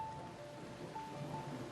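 A sudden rain downpour at a chateau during grape wine-making, where the wine press has just been sheltered: a steady, dense hiss of falling water that holds evenly throughout, with no voices.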